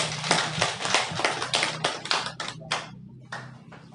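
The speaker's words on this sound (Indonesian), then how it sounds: "Mari beri tepuk tangan dulu." People at a village customary council meeting clap, a sparse but close run of separate hand claps that thins out over a few seconds with a low hum underneath.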